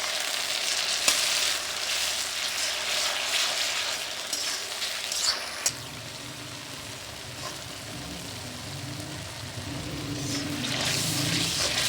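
Chopped tomatoes sizzling and frying with browned onions in hot oil for pulao biryani, a steady close crackle with stirring clatter, no talking.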